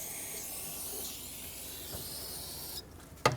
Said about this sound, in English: I'm going to spray brake parts cleaner